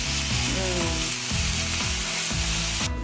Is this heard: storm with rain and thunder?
no